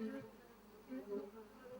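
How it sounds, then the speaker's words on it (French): Honeybees buzzing steadily around their hives, a low droning hum that swells and fades in short waves, fairly faint and close with no talk over it. "On entend le bourdonnement."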